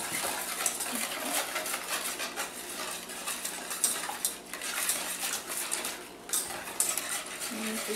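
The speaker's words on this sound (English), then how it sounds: "And just keep stirring around" Spoon scraping and clinking steadily against a pan while stirring melting cheese and gelatin, a quiet, continuous metallic rattle with occasional sharper taps, no one talking.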